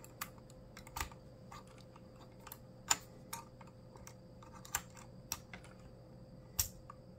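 Typing on a SmartDuck XS61K 60% budget mechanical keyboard with hot-swappable red switches gives sparse, close clacks with irregular spacing over a low background hum.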